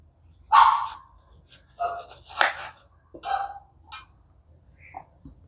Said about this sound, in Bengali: দেখো, সব আম এভাবে কাটবো।